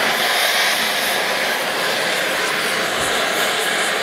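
An oxygen cutting torch on a line burner slices through steel while cutting bend coupons, giving a loud, steady roaring hiss that holds constant and close for the whole stretch.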